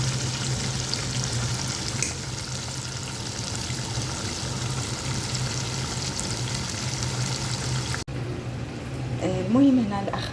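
Chicken breast and trotters frying in a pan and being turned, a steady, moderate sizzle with a brief dropout partway through and a voice speaking near the end.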